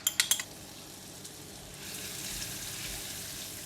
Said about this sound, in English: When oil is getting hot, I'm putting in garlic in oil.